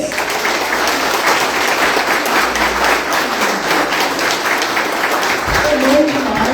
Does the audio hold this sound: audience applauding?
yes